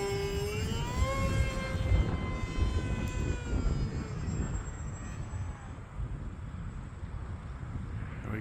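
A HobbyZone Aeroscout RC plane's electric motor whines overhead in gusty wind, its pitch sliding down as it fades, while buffeting wind noise rumbles across the microphone.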